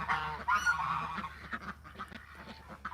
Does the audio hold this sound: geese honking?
yes